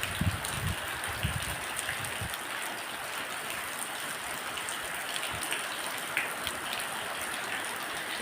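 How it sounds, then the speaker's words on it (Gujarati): Slow, light rain falls steadily outdoors during a rainy spell, a soft even patter with a few louder drops near the start and no voices. "આવો જ મસ્ત ધીમો ધીમો વરસાદ વરસે છે"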